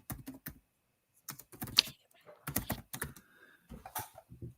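Fingers typing on a computer keyboard in separate bursts of quick clicky keystrokes with short pauses between, close and fairly quiet, alone without talking.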